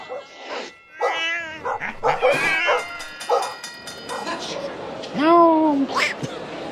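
Dogs yip, whine and bark as they fight at a dog show, in a noisy crowd, with sharp rising yelps near the end and people talking throughout.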